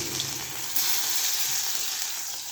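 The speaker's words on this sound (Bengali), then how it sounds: "কড়াইয়ের মধ্যে আমি তেল দিয়ে দিলাম।" Garlic fries in oil in a kadai, giving a steady, close, crackling sizzle that jumps slightly louder partway through and holds.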